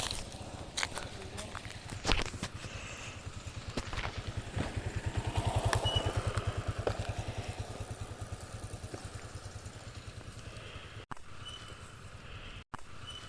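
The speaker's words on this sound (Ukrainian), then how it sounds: "Я не змогла вам зняти коров, але зняла мотоцикл." A motorcycle engine putters with a steady, rapid pulsing rhythm, swelling as it passes nearby and then fading back, heard outdoors with a voice speaking briefly over it.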